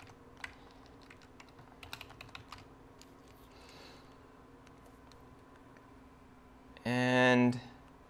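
Scattered clicks of typing on a computer keyboard, light, close and irregular, with a short burst of a brief tonal sound near the end.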